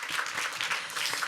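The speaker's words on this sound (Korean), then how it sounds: "박수 한번 보내주세요." Audience applause at a youth drug-addiction prevention talk concert, a dense, even wash of many hands clapping together, sustained and fairly loud for a brief moment.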